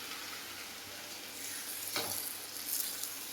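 Thalipeeth sizzles on a hot griddle, a steady close crackling hiss with a brief louder burst partway through; no voices.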